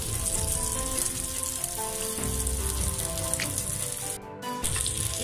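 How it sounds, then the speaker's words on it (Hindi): Fish coated in spice masala frying in oil over a medium flame, a steady close, loud sizzle with crackling spatter running throughout, briefly dipping for a moment near the end. "इसको 5 मिनट तक मीडियम फ्लेम पर इसी तरह फ्राई करेंगे।"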